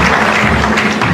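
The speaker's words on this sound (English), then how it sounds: "A resounding applause for her one more time." Resounding audience applause at a gathering in Ghana, a dense, loud, steady patter of many hands clapping through the whole moment.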